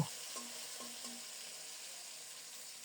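Fish frying in a pan in a home kitchen gives a faint, steady, soft hiss with a few quiet crackles, heard alone without talk.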